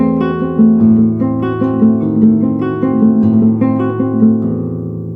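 Guitar arpeggio exercise with a chord: clear, close plucked notes ringing in a steady rolling pattern, sustained and overlapping, played alone without talk.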